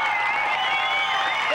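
A stadium crowd at a US platform diving championship roars and applauds after a dive, a sustained, dense wash of cheering and clapping with no break.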